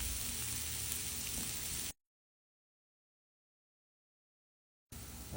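Parboiled potatoes coated in Cajun seasoning sizzle and crackle steadily on a hot griddle, a close, even frying hiss that cuts to silence and then returns.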